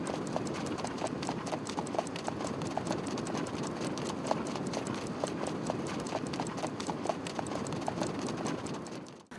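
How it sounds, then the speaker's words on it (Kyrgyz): A horse being trained in a Kyrgyz horse-breeding setting gallops with steady, rapid clip-clop hoofbeats, loud and continuous throughout, the rhythmic strikes fading only at the very end. "Атты улам алыстатып чаап, машыктырып, суутуп турушат."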